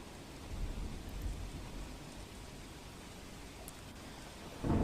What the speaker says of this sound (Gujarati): પારડી, ઉડવાડા, બાલડા, ઉમરસાડીમાં વરસાદ, વહેલી સવારથી વરસાદ વરસતા ઠંડક પ્રસરી ગઈ છે।